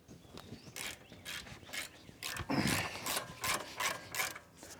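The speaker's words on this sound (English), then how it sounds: "Use a good size 1/2 inch breaker bar or 1/2 inch ratchet." A 1/2 inch ratchet works a brake caliper bracket bolt loose on a car's front brakes, giving repeated short clicking bursts in an uneven rhythm, close and fairly loud, with no voices.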